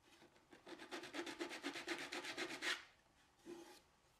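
Rhythmic rasping strokes of a piece cut from a sanding belt on a wooden runner, about a dozen quick back-and-forth rubs, close and fairly quiet, then a pause and one more stroke.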